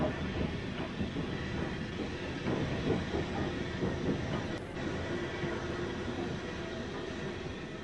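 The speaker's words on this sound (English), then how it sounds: "Channel Islands boat trains, which were frequently headed by bullied light Pacifics." A Southampton boat train for the Channel Islands, hauled by a Bulleid Light Pacific steam locomotive, rumbles past with a steady rolling clatter of wheels on rails and a brief high squeal midway.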